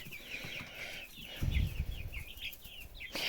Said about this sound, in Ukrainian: є в мене таке підозра, що тут два півника